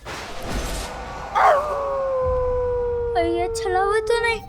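A dog howls at night in a Hindi period drama, long drawn-out wavering howls rising and sliding down, answered by further howls, with some speech and ambient sound beneath.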